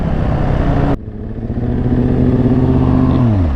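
A 450 dirt bike engine revs loud and close, its pitch climbing steadily after a sharp cut, then dropping off as the throttle closes.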